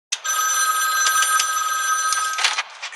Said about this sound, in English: You hear a phone ring and it could be anybody.